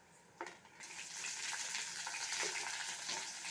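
Onion fries in hot oil in a pan for samba wheat rava upma, giving a quiet, steady sizzling hiss with a faint tap near the start and soft stirring sounds, no talking.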